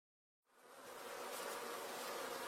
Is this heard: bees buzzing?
yes